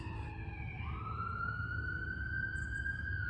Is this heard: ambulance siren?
yes